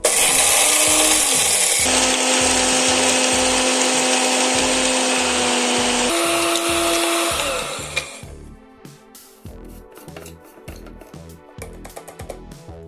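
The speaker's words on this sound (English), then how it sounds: "Grind until you get a smooth, fragrant powder." An electric grinder pulverises roasted chai masala spices into a fine powder, a loud, steady whirring that runs for about eight seconds and then cuts off, leaving a low rhythmic backing sound.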